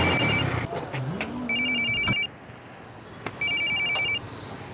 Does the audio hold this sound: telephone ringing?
yes